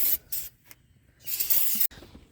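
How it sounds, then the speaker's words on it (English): Aerosol can of brake cleaner spraying onto a brake caliper in short hissing bursts, two quick puffs, then a longer blast, close and fairly soft. "As always, some brake cleaner."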